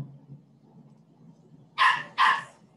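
Two sharp barks from a dog sound in quick succession after a stretch of quiet low room hum, loud and fairly close.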